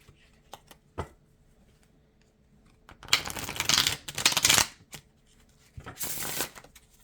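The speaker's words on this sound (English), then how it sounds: "I don't know what the deal is with my shuffling lately." Tarot cards are shuffled in three riffling bursts, crisp and close, with a few light taps in between and no talking.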